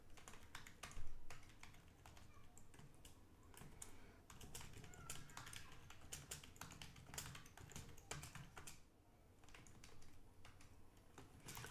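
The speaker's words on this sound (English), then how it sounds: "here you can type in whatever you want" Quick, irregular keystrokes on a computer keyboard while entering survey text, close and faint, in uneven bursts with short pauses and no talking.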